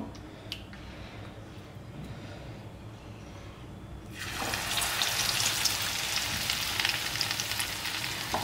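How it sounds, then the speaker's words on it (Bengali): Partway through, chicken drumsticks are lowered into hot oil in a wok. The quiet kitchen gives way to a loud, continuous, close-up bubbling sizzle of deep frying that continues to the end. "কড়াইতে তেলও গরম করে নিয়েছি, এবার আমি ডিপ ফ্রাই করে নেব।"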